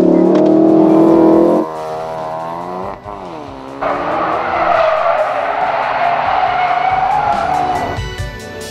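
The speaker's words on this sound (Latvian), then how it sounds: "Starta kontrola." A Ford Focus RS engine revs hard, holds at the limiter under launch control, then launches with screeching tire spin and rising engine roar.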